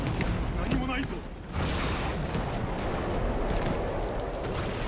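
Cannon fire in the stealth game Shadow Tactics: Blades of the Shogun, a dense, loud barrage of booming blasts under a continuous wash of battle noise, with a brief dip before the roar resumes.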